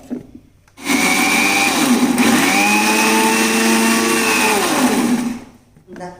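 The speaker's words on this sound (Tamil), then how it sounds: "ஆமாம்மா அரைச்சிடலாங்கம்மா கொஞ்சம் ரொம்ப நைஸாக அரைக்காதீங்கம்மா" An electric mixer grinder runs loud and steady for about five seconds while grinding chutney, its whining motor pitch dipping and rising as the load shifts, before cutting off.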